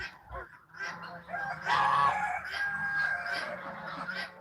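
Domestic poultry, ducks and chickens, calling together at close range: overlapping honks, quacks and clucks with a crowing-like cry, continuous and fairly loud throughout.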